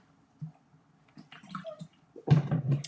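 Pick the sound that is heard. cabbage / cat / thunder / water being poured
water being poured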